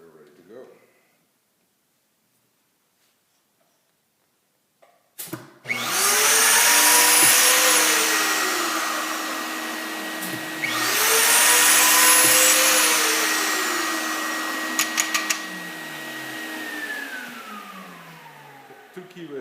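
A router cuts dovetail keyways in frame moulding, starting after a few seconds of near silence with a loud whining roar that rises and falls over two passes, then spins down.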